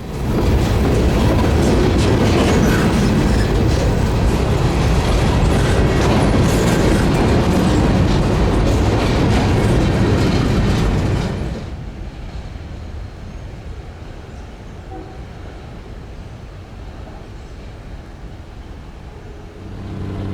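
A loud freight train led by an SD60M and rebuilt locomotives rumbles past through a clay cut in North Winston with steady clattering wheels for about eleven seconds, then cuts off abruptly, leaving a quieter low background hum.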